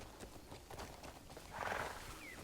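Horse hooves clip-clop at a walk in Crimson Desert, a steady run of soft thuds under ambient game noise, with a brief whinny-like swell near the end.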